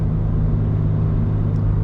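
A Toyota GR86 fitted with an MBRP exhaust accelerates, its steady low engine drone and exhaust rumble holding loud and close throughout, with no talking.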